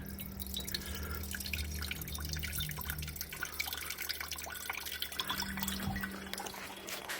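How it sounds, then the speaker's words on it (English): Water drained from a sprinkler system trickles and drips steadily into a glass bowl, close and continuous, with a low hum running underneath. "grab your wife's favorite glass bowl and drain all the water out."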